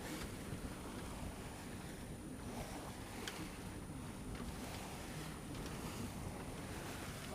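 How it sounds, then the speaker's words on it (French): Rough, heavy seas wash against a sailing boat crossing between Corsica and the mainland, a continuous broadband rush of water and wind with occasional splashes and knocks. "Voilà, on a une grosse mer."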